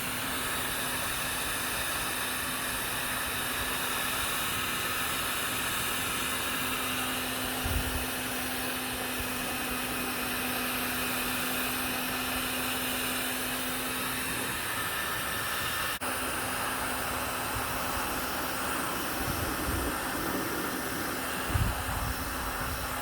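A heat gun shrinks heat shrink tubing over wiring for an LED light bar on a Ford Explorer grill guard, giving a steady, close, loud hissing blow that runs unbroken for the whole stretch with no voices.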